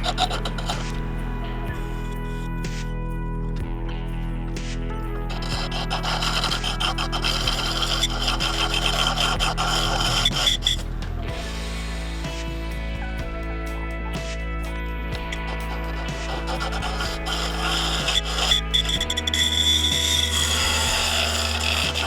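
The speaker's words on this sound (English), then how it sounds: "using that skew and just riding it down the side to get it nice and narrow" A skew chisel rides down the side of a wooden piece spinning on a lathe, giving a continuous raspy scraping over the lathe's steady motor hum, which drops in pitch twice as the speed changes.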